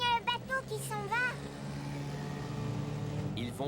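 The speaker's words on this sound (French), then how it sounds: "Regardez, il y a un bateau qui s'en va." A boat departs across the water in a cartoon, its motor droning low and steady at a moderate distance, while a voice talks over the opening moments.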